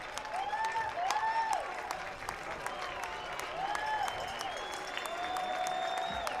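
A baseball crowd at an evening Corvallis Knights game applauds steadily as a pinch hitter comes to the plate, a distant wash of clapping running under a play-by-play announcer's voice.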